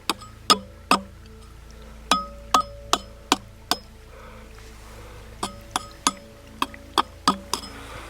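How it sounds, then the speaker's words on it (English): A tool taps sharply on old, ancient concrete again and again, each hit ringing briefly, in an uneven rhythm with a short pause midway. "that's the sound of ancient concrete."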